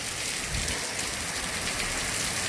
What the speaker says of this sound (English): So we are now waiting out the rain